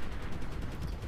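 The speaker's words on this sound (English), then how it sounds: "Just keep on loading, firing rockets every now and then." Rapid gunfire and rocket blasts in the Medal of Honor video game on hard difficulty, a dense, loud, rumbling barrage of overlapping shots lasting about a second.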